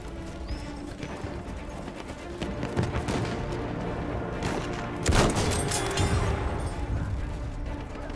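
Horse hooves clopping in Battlefield 1 frontlines gameplay, moderately loud galloping beats mixed with scattered gunfire and battle noise, building slightly toward the end.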